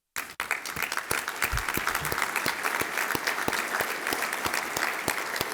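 A conference crowd at an investment event claps in a full, sustained burst of applause that starts suddenly and stays steady, with a few sharper individual claps standing out.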